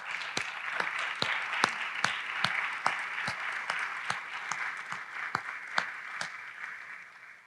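A small, quiet audience at an author evening claps in sparse, distinct individual claps rather than a dense roar, a handful of hands popping irregularly over several seconds, faint and somewhat distant.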